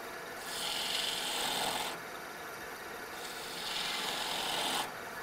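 Wood being cut into a cove with a turning tool, heard as two long, steady rasping passes separated by a short pause, close and fairly loud with no talking.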